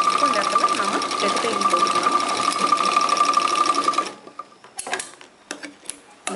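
A sewing machine stitches fabric at a class for beginners, a loud, fast, ticking whir running steadily for about four seconds before stopping, followed by scattered clicks and handling noises, with a voice in the background.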